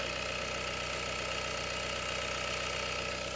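A 2.3-litre diesel engine in a 2015 Mitsubishi Outlander idles steadily nearby, a low continuous rumble with a faint rhythmic knock and hum throughout.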